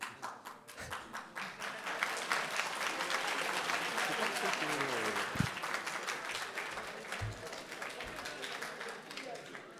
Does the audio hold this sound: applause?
yes